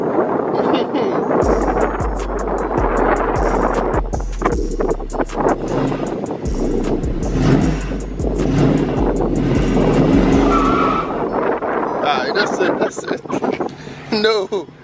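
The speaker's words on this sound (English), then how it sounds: "Go ahead. Hit the burnout." A Dodge Charger 392 Widebody roars through a loud burnout, its V8 revving in repeated bursts and sustained surges close to the microphone, with people talking excitedly over it and wind buffeting.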